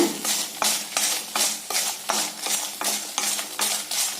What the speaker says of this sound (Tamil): வரமிளகாய்ங்க இதையும் அப்படி தாங்க ட்ரையாக வறுத்துக்கலாங்க